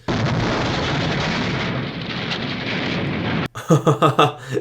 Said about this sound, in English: It just exploded.